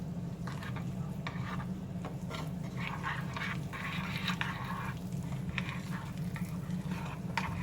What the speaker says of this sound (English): Slowly and carefully mix those all in.